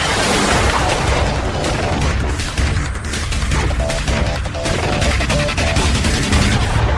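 Artillery fires two high-explosive rounds as a sustained, dense crash of heavy gunfire and booms, loud and continuous throughout with no voices.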